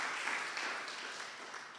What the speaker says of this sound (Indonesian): Beri tepuk tangan saudara ya.